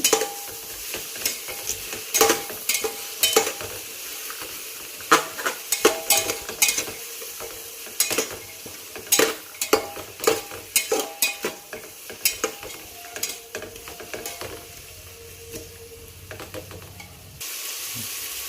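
Matar pulao is stirred in a hot pan with a spoon, giving repeated scraping and clattering strokes over a continuous low sizzle that runs for about eighteen seconds and then quietens.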